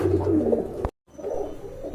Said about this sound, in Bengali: এখানে কিন্তু আরেক জোড়া টেডি কবুতর আছে